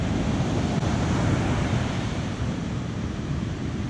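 Ocean waves surge and break along an Outer Banks beach in a steady, loud wash of surf mixed with wind rumble, continuous and close, with no voices.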